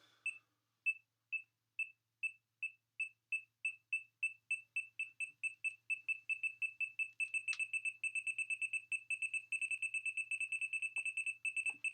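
An Android RFID tag search app beeps like a Geiger counter as the phone nears the tag, the clean electronic beeps starting slow and evenly spaced, then speeding up into a rapid, almost continuous stream, with no talking.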